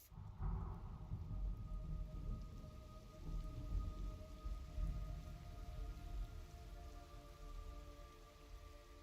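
Steady rainfall in the video game Metal Gear Solid Delta, with a low rumbling undertone like distant thunder, continuous and fairly even throughout, with no voices.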